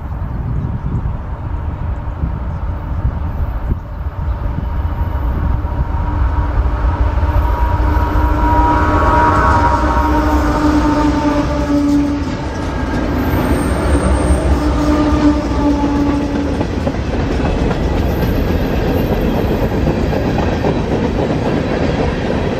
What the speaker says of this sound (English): CSXT-867 leads a northbound manifest train with yet another EMD unit running second in CSXT-4753 SD70.